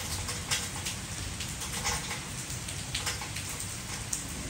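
Steady rain falls in Mazatlán, a soft continuous patter with scattered louder drops, faint and even throughout with no voices.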